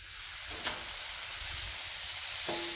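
Bacon, two pounds of it, sizzles steadily on a Blackstone flat-top griddle, a broad hiss running through the whole stretch with a couple of brief clicks from handling and no voices over it.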